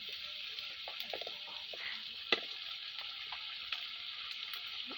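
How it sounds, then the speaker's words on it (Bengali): Chicken liver coated in ginger and cumin paste fries in oil, giving a steady, moderate sizzle with a sharp crackle near the middle and faint stirring scrapes throughout. "সবগুলো উপকরণ একসাথে মেখে ঝুঁকে তেলে ভাজতে হবে"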